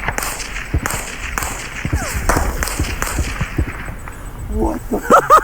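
An M1 Garand rifle firing .308 rounds from a defilade position at a range, a series of sharp cracks spaced roughly half a second apart, loud and close, with people talking briefly near the end.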